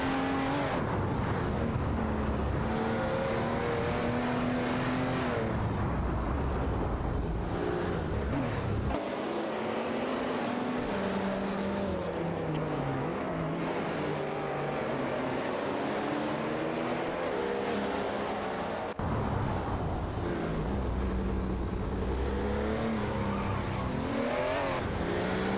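A racing video game with a Ferrari F40 Competizione and a turbocharged Nissan among other cars produces continuous engine roar, with rising and falling revs and overlapping cars through gear changes.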